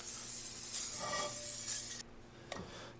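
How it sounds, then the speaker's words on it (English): Cooking oil spray hisses from an aerosol can onto a pan for ground beef, a steady close spray of about two seconds, then a short quieter burst after a pause. "Let's give it a little spray."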